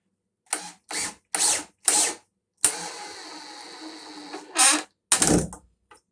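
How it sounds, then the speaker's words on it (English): A power drill drives a screw into a wooden shelf in short bursts, close and loud, several brief whirs followed by one longer sustained run and two more quick pulses. "now we're going to drive the upper screw in"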